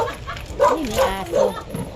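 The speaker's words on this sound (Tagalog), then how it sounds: "may aso" A dog gives three quick yipping barks, close and fairly loud, in an even rhythm over two seconds.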